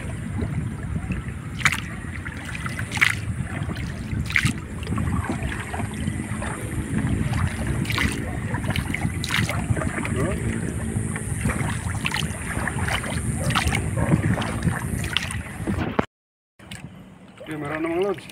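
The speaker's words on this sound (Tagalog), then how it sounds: "Sagwan ulit." Repeated paddle strokes splash and dip into water at a steady pace from a small wooden boat out squid fishing, with wind buffeting the microphone and water lapping around the boat.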